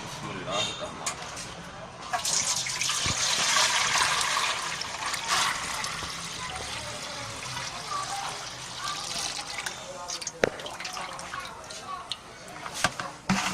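Tap water pours steadily into a bucket, a continuous splashing rush lasting throughout, with a few clunks and knocks near the end, at home while preparing a herbal khaksi drink.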